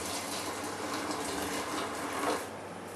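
Liquid from a can of Wilkinsons Dark Velvet Stout homebrew kit draining out, a steady, close gushing and trickling pour with no talk.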